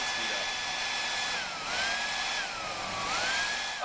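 A close hair dryer on its cold shot setting blows steadily while its motor whine slides down and back up in pitch, a continuous rushing hiss with no talking.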